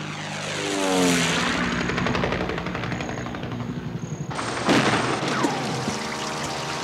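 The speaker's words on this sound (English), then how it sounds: "Aircraft infringing control zone." An aircraft roars loudly overhead in a shifting, sweeping engine drone that swells and then cuts to a sharper high tone partway through, with no talking.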